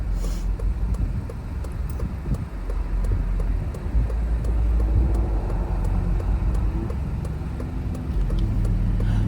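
Steady low rumble of a car's interior while driving, with road and engine noise filling the low end and faint rattles and clicks throughout, no talk.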